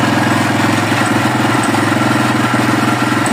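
An old 600 cc motorcycle engine, started for the first time in five years with an uncleaned, overflowing carburetor, idles loudly and close up, with a steady pulsing beat and slight irregular sputters.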